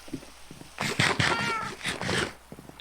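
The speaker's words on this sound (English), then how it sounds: "Shut up, cat." In a Minecraft-style game, a cat meows loudly again and again in quick, whiny bursts, close and insistent, with a little background talk.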